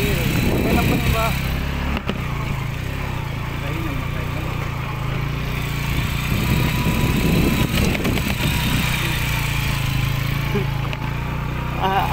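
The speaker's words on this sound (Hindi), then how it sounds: "आज अंकित राइडिंग कर रहा है, बहुत ही खतरनाक रास्ता है" A motorcycle rides along a rough, dangerous jungle road, its engine a continuous mid-pitched drone throughout, with voices talking over it at times.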